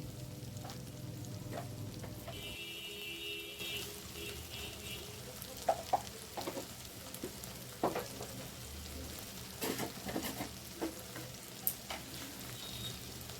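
Turmeric, chili and cumin powders fry in oil in a pan while being stirred, a constant close sizzle punctuated by scraping and knocking strokes of the spatula at irregular intervals.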